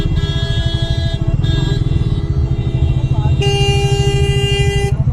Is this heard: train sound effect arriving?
no